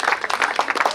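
A burst of crowd applause at a graduation ceremony, many hands clapping densely and evenly throughout, moderately loud.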